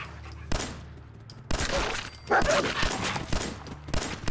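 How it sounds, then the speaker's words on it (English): Repeated gunshots in Fallout 4, a handful of sharp, loud cracks spaced roughly a second apart over a low background ambience. "I just shot Dogmeat in the face"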